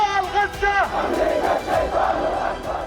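Hundreds of protesters crowd the streets in support of Palestine, a loud mass of raised voices chanting and shouting together in close, surging bursts.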